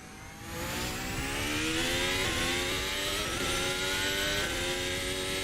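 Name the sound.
Formula Hybrid 2022 car engine revving in the video game Assetto Corsa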